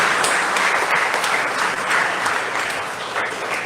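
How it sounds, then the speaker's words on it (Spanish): A church congregation at a Pentecost vigil Mass claps steadily in dense applause, with no pauses, sustained and fairly loud throughout. "Santa Mariana de Jesús, damos un fuerte aplauso a su patrona, que puedan pasar una fiesta muy bonita."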